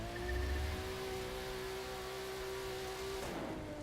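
A car engine in The Crew 2, with faulty gear shifting, hums at a steady, even drone, slightly louder at the start and with a brief shift near the end.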